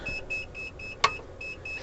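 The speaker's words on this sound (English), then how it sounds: "If I flip it to high, I start getting the fault alarm." An inverter fault alarm in a 1989 Winnebago motorhome beeps in a regular series of short, shrill tones, with a brief louder click partway through, heard fairly close against a faint background hum.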